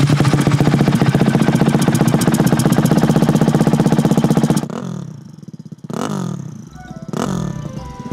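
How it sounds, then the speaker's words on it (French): A turbocharged 450 motocross dirt bike engine runs with a fast, even, loud idle that cuts out sharply partway through. Afterward come several short rising and falling throttle blips with whooshy turbo-like sweeps. "C'est incroyable d'avoir un bruit de turbo dans une 450 les gars."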